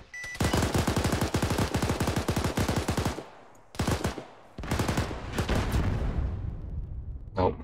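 Rapid automatic gunfire in the military video game Arma 3 comes as loud, dense bursts of shots with brief pauses between strings, close and unbroken by talk.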